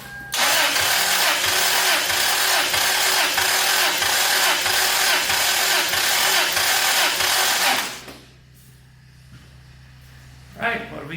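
Toyota 5VZ-FE V6 engine cranking on the starter during a compression test, a loud rapid rhythmic churning for about eight seconds that stops abruptly, followed by quiet shop ambience.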